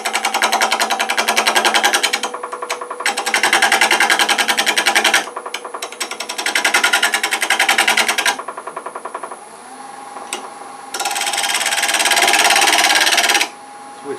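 A wood lathe spins a medallion ornament held with tailstock support while a small 3/8 inch bowl gouge cuts it round. The gouge makes loud, close, rattling bursts of cutting a couple of seconds each, separated by short pauses, with a longer steady stretch near the end.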